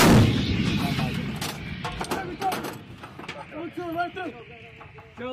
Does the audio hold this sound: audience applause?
no